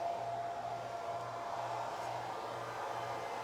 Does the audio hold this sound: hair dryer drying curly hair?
yes